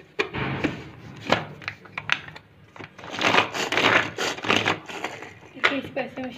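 A hand blender whirs in uneven bursts while cooked chicken is shredded and mashed, with clattering and grinding and a voice talking in between.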